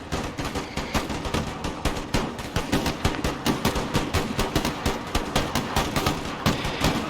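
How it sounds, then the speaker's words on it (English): Puckle guns in Empire Total War fire in rapid, continuous bursts, a dense rattling volley of sharp gunshot cracks repeating steadily throughout, loud and close with no talking. "They're getting completely shredded by my guns."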